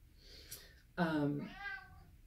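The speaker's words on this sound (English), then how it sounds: "That's my cat Marcel." A cat meows at a front door a couple of steps away, one clear drawn-out meow followed by a softer second one, fairly close, with a brief faint sound before it.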